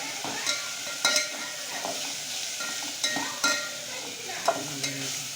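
Chopped tomatoes sauté in a pan for a moth bean curry, stirred with a utensil: a continuous sizzle punctuated by repeated scraping and tapping strokes roughly every half second to second, close and moderately loud.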